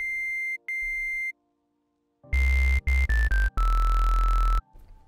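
Resampled oscillator B patch in the Serum synthesizer playing a few short, buzzy tones, loud and upfront, with abrupt pitch steps between notes, following two thinner sustained beeps and a gap of silence.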